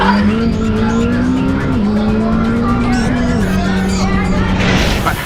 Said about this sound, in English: Players choose the Dodge Charger or the McLaren Senna and race head to head.